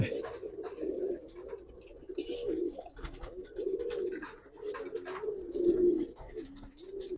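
An original Pakistani pair of silver Giribaz pigeons keeps up a steady stream of low, rolling coos close by, with only faint background noise and no clear talk.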